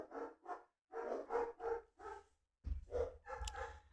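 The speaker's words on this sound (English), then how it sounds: "I can't even talk, guys, because these dogs are insane." Several dogs bark loudly in repeated bursts close by, with short gaps between volleys and one sharper burst near the end.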